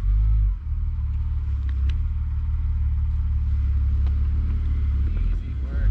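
A car engine rumbles low and steady as the vehicle is pulled free, holding a constant throaty drone while people talk over it nearby.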